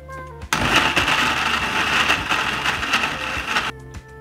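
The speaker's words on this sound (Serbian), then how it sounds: "Poklopit ću i sve ću ovo samleti." Blender grinding peeled ginger with 250 ml of water, a loud steady whirring roar that starts abruptly, runs for about three seconds and cuts off, with quieter background hum before and after.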